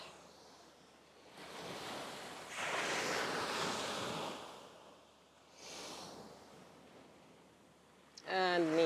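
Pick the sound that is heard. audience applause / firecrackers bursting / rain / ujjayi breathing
ujjayi breathing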